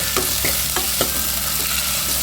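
Chillies and curry leaves crackling in hot oil in a pan, a steady close sizzle broken by several sharp stirring scrapes roughly every half second.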